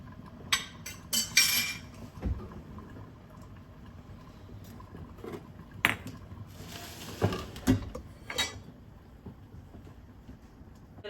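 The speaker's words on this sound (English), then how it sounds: "I'm just gonna throw the lid on it to do that so I don't burn myself." A metal lid clanks onto a pot of onion jam being canned, with a few sharp clinks and clatters of kitchenware scattered among quieter moments, close by and with no talking.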